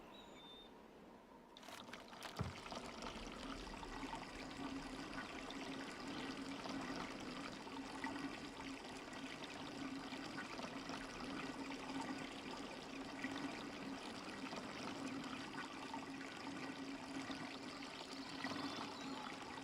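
Steady water flowing and trickling as the tree is watered in the game Riven, a continuous rushing wash that begins after a soft start and keeps going at an even level with no one talking.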